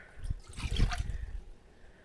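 Water is poured from a cup for a baklava simple syrup, a brief soft splashing trickle that swells and fades over about two seconds.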